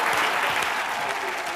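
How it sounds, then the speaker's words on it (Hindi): A television comedy show studio audience breaks into dense, sustained applause, loud and steady throughout with no break. "ठोको जरा जोरदार तालियां"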